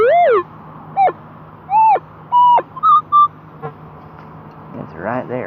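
A metal detector sounds off over a buried clad quarter in the yard of an 1867 house: several short, warbling electronic tones rising and falling in pitch, close and loud, with a faint rustle between them and no talking.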